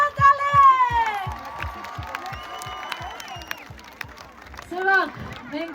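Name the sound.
audience applause at a concert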